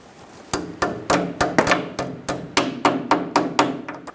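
A cotter pin on the tie rod of a Ford F-350 is hammered over in a rapid series of about a dozen sharp metallic strikes, evenly spaced, loud and close, with no talking.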